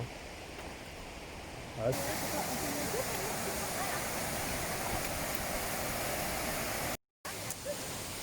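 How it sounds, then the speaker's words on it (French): Barberine waterfall near Vallorcine, close to the Swiss border, roars as a steady broadband rush, loud and continuous at close range. A voice speaks briefly over it. "on est juste au bord là d'une cascade"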